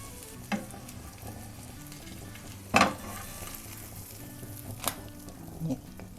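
An omelette pizza frying in a pan over a slow flame gives a soft, steady sizzle, with a few brief utensil taps and scrapes breaking through.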